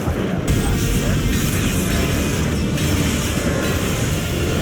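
Continuous dense grinding and rumble of a character rail-sliding in the video game Ninja Gaiden, a steady loud metallic scraping roar that holds at an even level throughout.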